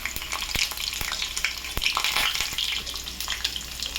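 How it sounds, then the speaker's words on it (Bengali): Garlic sizzles in hot oil in a pan, a steady bright crackle with a few sharp pops, heard close and alone with no talk. "আগে রসুনটা দিয়ে দেবো তেলের ওপরে। রসুনটা দিয়ে দিই তেলের ওপরে। রসুনটা ভাজা হোক"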